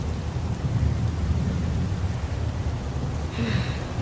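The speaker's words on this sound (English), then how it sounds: "It's pouring rain." Steady heavy rain pouring down, a dense constant hiss with a low rumble underneath, no voices.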